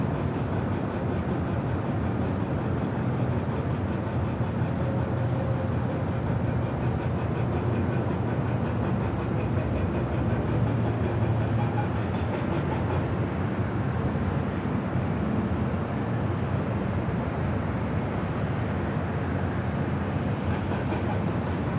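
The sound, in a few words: Eva Air Boeing 777 taxiing across runway at LAX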